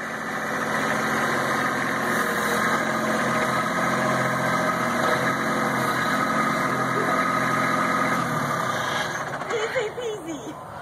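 A tractor engine idles with a steady, loud low rumble and vibration, holding constant for most of the stretch before wavering near the end.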